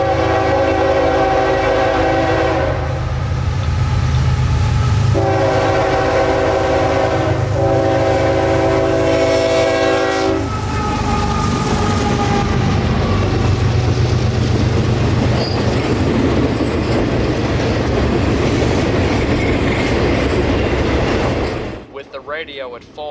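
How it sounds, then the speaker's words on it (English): A Q603 nightly mixed freight train from Waycross, Georgia to Winston Yard at Lakeland passes close and loud, with long horn blasts at the start, then a sustained roar of rolling cars and wheel squeal before an abrupt cut. "this train was unbelievably Q603, nightly mixed freight from Waycross, Georgia to Winston Yard at Lakeland"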